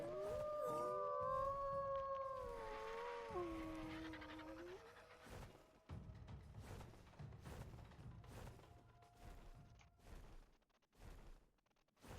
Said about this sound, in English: Let's see if I can get the dire wolf to run off the side.